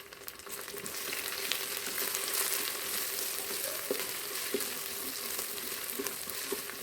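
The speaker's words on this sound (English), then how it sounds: "Saute the onions until they are golden brown in color." Onions with slit green chilies and curry leaves sautéing in a pan for mutton curry, a steady dense sizzle and crackle throughout with occasional soft stirring scrapes, no voices.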